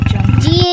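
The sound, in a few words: lion roaring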